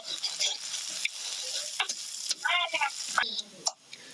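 Food fries in a hot pan with a steady close sizzle, broken by scraping stirs and a few sharp ticks of utensil against metal.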